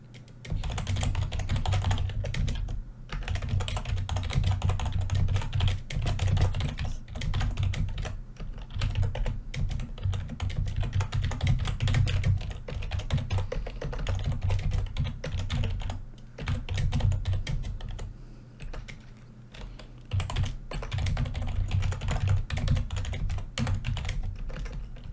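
Steady, continuous typing on a computer keyboard, dense clicking keystrokes running for about twenty-five seconds with only brief pauses and no talking.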